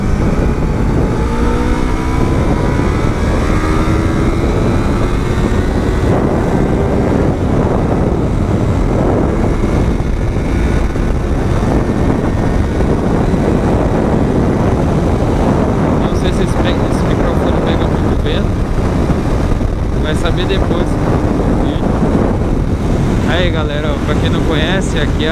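Yamaha MT-03 motorcycle accelerating along a highway from Paulínia toward Andradas, the engine droning steadily beneath heavy wind buffeting on the rider's microphone, with the pitch gradually rising.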